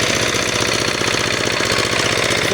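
Newly launched Bangladeshi power tiller under heavy load while ploughing a low-lying haor field; a loud, close, continuous rapid chugging diesel clatter with steady pulsing knocks and no voices.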